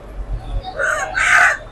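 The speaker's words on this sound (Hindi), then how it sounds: "यहाँ पे जिंदा मुर्गियाँ सेल हो रही है मुर्गे।" Live chickens and a rooster at a Mombasa market in Kenya. A close rooster crow rises and swells over about a second above low background bustle.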